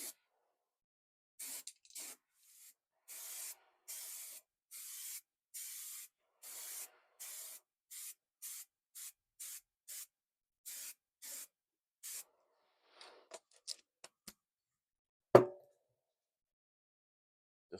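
Short bursts of rattle-can spray paint hissing onto car parts during a 1972 Aston Martin AMV8 restoration, about a dozen evenly spaced puffs close by, followed by a few small knocks and a sharp clack.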